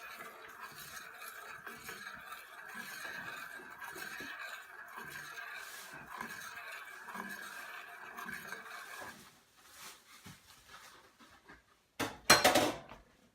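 A metal utensil stirs yogurt inside a Dutch oven pot, a steady close scraping and clinking against the pot's sides for several seconds, then quieter, ending in a few louder knocks and clatters.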